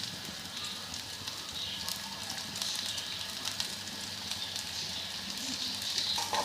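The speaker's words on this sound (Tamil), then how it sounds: "இதில் சின்ன வெங்காயம், ஸ்மால் ஆனியன் போட்டு வதக்கணும்" Small onions and green chilli sauté in a pan for a Kerala-style beef curry, giving a steady close sizzle and crackle of frying throughout, with faint speech beneath it.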